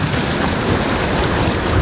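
A sailboat runs downwind on long ocean swells in moderate wind, giving a continuous loud wash of rushing water and wind buffeting against the microphone, with no voices.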